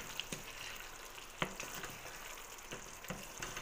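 Green chilli chicken sizzles steadily in a pan with coriander leaves just added, with a few sharp scrapes and knocks from a spoon stirring it, close and alone.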